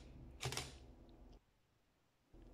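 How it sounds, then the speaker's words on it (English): A laser-activated camera shutter fires once in a single sharp, bright snap near the start, followed by a low hum that cuts out and then returns. "And we are activating the shutter."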